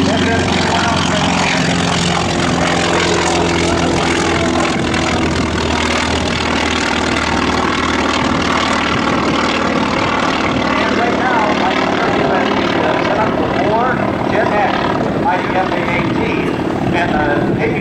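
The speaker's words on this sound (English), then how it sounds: "FM-2 Wildcat." An FM-2 Wildcat propeller warplane flies at the 2011 Fort Worth Alliance airshow, its engine a loud, steady drone with a throbbing prop tone throughout, while a voice talks over it.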